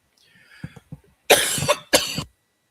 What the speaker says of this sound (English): Definitely don't want to be coughing in your all's faces.